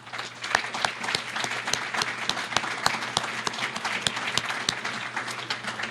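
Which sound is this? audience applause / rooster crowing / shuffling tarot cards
audience applause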